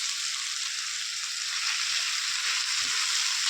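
Tomatoes with garam masala sauté in a hot pan, giving a loud, steady, close sizzle that runs without a break and with no voices.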